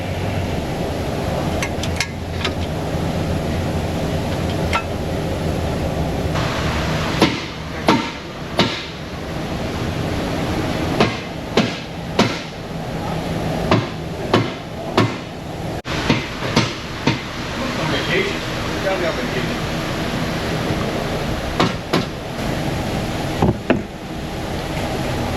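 A hammer gives light, sharp taps, working car body panels into place where the bolt holes don't line up. The taps come in irregular clusters of single knocks, close up, over a faint workshop hum, with no talking.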